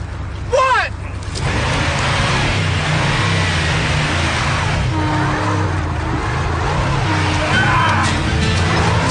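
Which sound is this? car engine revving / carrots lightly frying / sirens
car engine revving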